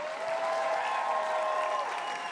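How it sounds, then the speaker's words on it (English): A crowd at the 2023 Hollywood Unlocked Impact Awards ceremony claps and cheers for an honoree, a loud sustained wash of applause with a faint tonal hum running beneath it. "Please give a round of applause for our 2023 Hollywood Unlocked Social Impact Award recipient, Miss Whoopi Goldberg."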